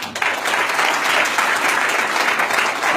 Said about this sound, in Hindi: मैं तालियां बजवाना चाहूंगा सभी शिक्षकगणों के लिए आपसे।